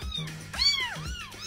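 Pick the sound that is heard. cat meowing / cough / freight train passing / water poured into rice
cat meowing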